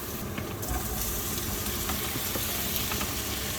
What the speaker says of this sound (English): Just want to get them sizzling and then you put the tomatoes right on.